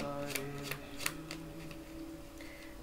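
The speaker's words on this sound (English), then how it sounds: "so I'm just shuffling." Soft papery shuffling of a tarot deck, a few crisp riffles standing out over a low steady background hum.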